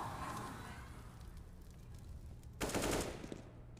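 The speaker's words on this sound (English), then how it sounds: "A deagle shot right through the wall." Gunfire in a Counter-Strike: Global Offensive match, muffled and distant at first, then a louder burst of shots near the end.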